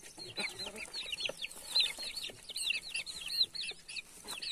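Two young chicks give rapid, high, sweeping peeps close by, a busy run of overlapping chirps with soft rustling underneath.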